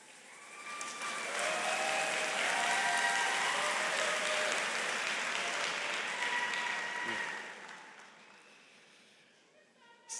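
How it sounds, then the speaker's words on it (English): Steady, dense applause fills the hall at the NC State College of Natural Resources Spring 2024 commencement, swelling quickly, holding for several seconds, then fading away to near quiet. "I think we all know what to do with our applause by now"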